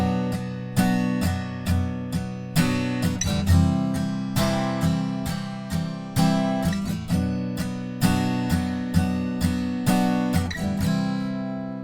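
An acoustic guitar strums the pre-chorus chords of a song in a steady rhythmic pattern, played up close with no voice. The final chord rings out and fades.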